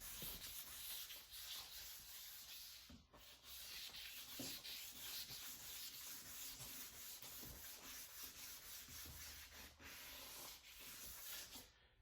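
Car headlight plastic is wet sanded with 600 grit sandpaper, giving a steady, close, raspy rubbing that runs back and forth continuously with brief pauses.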